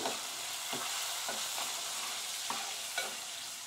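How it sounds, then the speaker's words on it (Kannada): Sliced onion frying with garlic in hot oil for the tempering of a festival holige saaru, a steady close sizzle with a few sharp stirring scrapes spaced through it and no voices. "ಈಗ ಈರುಳ್ಳಿ ಹಾಕ್ತಾ ಇದ್ದೀನಿ, ಉಳ್ಳಾಗಡ್ಡಿನ ಇದನ್ನ ಸಣ್ಣಗೆ ಉದ್ದಕ್ಕೆ ಹಚ್ಕೊಂಡು ಹಾಕ್ಬಿಡ್ಬೇಕು."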